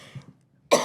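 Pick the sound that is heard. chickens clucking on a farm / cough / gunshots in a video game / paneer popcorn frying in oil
cough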